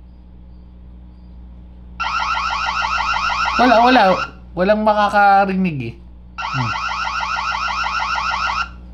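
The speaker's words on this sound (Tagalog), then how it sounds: "yung alarm hindi siya ganun kalakas pero pwede natin pakinggan nyo" A Reolink security camera's built-in alarm siren sounds in repeated electronic bursts, pausing while someone speaks in between.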